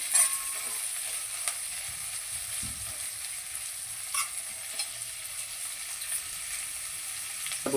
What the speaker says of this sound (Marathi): आपण हे आता टॉस करून घेणार आहोत त्यामध्ये थोडेसे परतून घेणार आहोत